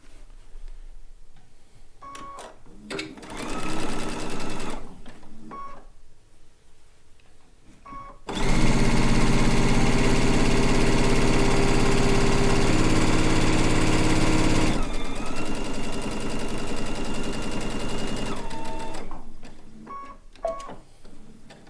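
A sewing machine stitches quilt top pieces together in a steady, loud mechanical whir lasting several seconds, with quieter clicks and handling noises before and after.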